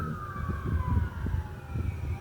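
An ambulance siren wails steadily in the background, a long gliding tone drifting slowly downward, with low rumbling traffic noise underneath.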